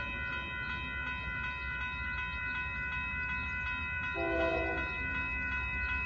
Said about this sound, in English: After this train goes by